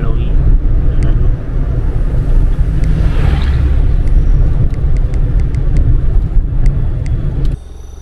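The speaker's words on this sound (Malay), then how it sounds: "Tu ada sebuah lori yang lalu." A lorry passes on a forested hill road at night, its heavy rumble loud and steady near the microphone with wind buffeting, then dropping away abruptly near the end.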